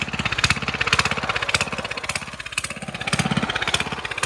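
Engine of a homemade trackless train starting up and running, a steady rapid small-engine chug with repeated throttle swells, close and loud throughout, with no talking.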